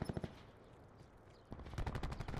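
Rapid automatic gunfire from a weapon in Call of Duty: Black Ops 4, a quick burst of shots, a short lull, then a longer stuttering burst, loud and close.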